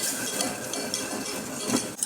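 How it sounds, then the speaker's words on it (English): A whisk scrapes and clinks steadily against a pot while stock is poured into a flour roux for homemade gravy, continuous and close with no talking. "now while whisking, we want to start adding our stock a little bit at a time"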